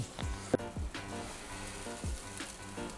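Beef fillet searing on an oiled plancha on a Napoleon barbecue, a steady close sizzle with a few brief knocks and scrapes of tongs or a spatula.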